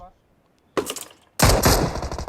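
Automatic gunfire in the mobile battle royale game PUBG Mobile: a loud burst of rapid shots, a short pause, then a longer, denser volley, with no talk over it.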